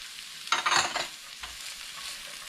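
Diced onion, green beans and carrots stirred in a hot pan for fried rice, with a loud burst of sizzling and scraping followed by a softer steady fry.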